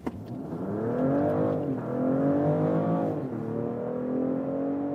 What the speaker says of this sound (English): Let's put to the sport mode and also sports or S shifting mode, getting the boost from both drivetrains, combustion engine and electric drive.